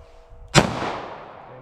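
A single sharp gunshot from a compact 9mm or .38 Special handgun, loud and close, with a sudden crack that decays into a long fading echo.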